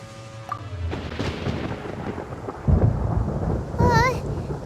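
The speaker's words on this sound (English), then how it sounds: "Paimon hears thunder!" Thunder rumbles and cracks through a Genshin Impact storm scene, with deep booming bursts and rain-like hiss, then a sharp rolling crash near the end.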